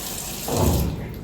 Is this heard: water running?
yes